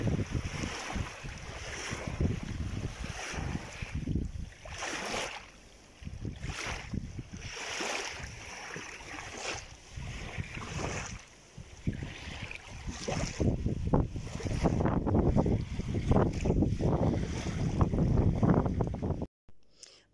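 Waves on the Sylva river lap and splash near a sandy beach in uneven surges, heard close amid gusting wind buffeting the microphone.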